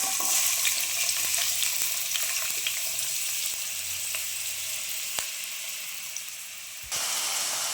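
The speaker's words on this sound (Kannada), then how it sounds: "ನೋಡಿ, ಈರುಳ್ಳಿ ಎಲ್ಲ ಚೆನ್ನಾಗಿ ಫ್ರೈ ಆಗ್ತಾಯಿದೆ" Two chopped onions fry in a few spoons of hot oil in a pan, giving a steady, close, crackling sizzle with occasional small clicks and no talk.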